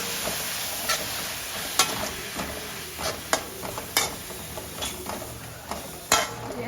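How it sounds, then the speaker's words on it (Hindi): Spinach frying in a home kitchen pan, a steady soft sizzle broken by repeated sharp scrapes and taps of a spatula stirring it at an uneven rhythm, close and moderately loud with no talking. "यहाँ पे मम्मी डाल दी पालक।"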